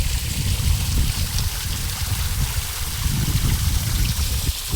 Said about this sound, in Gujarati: પાણી જોરદાર પડી રહ્યું છે ને એટલે મસ્ત લાગે યાર.